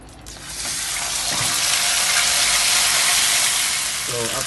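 Olive oil poured into a hot pan for frying chicken, a loud, steady broadband hiss and sizzle that swells after the first half second and holds throughout, with a brief voice near the end.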